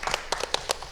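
A handful of scattered, brief claps ring out as a seminar audience on the Korea discount applauds, sparse and fairly faint in a large room.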